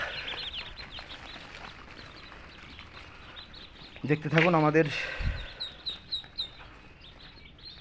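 Several shrill, rapid peeps from young ducklings burst out mid-clip, with soft chirps after, heard under a person talking.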